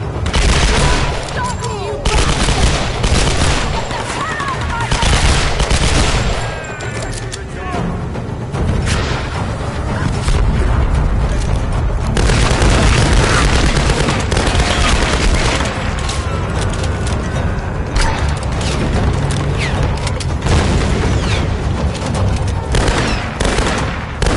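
Enemy gunfire in Tomb Raider Definitive Edition during the finale battle, loud dense volleys and booms merging into a continuous roar of combat sound, with a voice at times in the mix.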